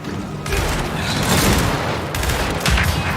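Rapid bursts of enemy gunfire with exploding rounds in the shooter Gears 5, dense crackling blasts and booms stacking in quick succession, loud and sustained with little pause.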